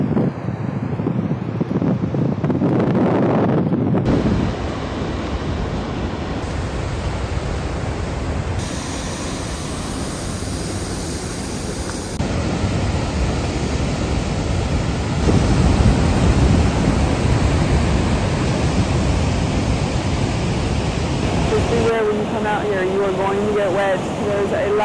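Large waterfall on Iceland's Golden Circle, a steady loud roar of falling water mixed with wind buffeting the microphone, continuous throughout with no voices.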